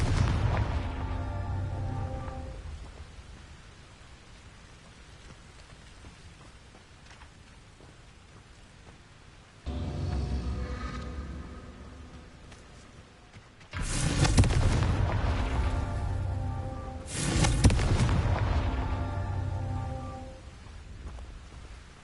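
Repeated Confringo blasting-spell explosions from Hogwarts Legacy arrive as booming bursts with crackling, rain-like debris tails, one at the start and several heavier blasts later in the stretch.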